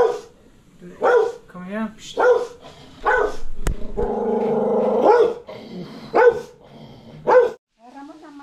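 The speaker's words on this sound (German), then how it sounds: "Das sind die bösesten Hunde der Welt." Dogs in rural El Salvador bark in loud, close bursts, with a growling stretch between the barks and a few yips, while someone speaks and hisses to them.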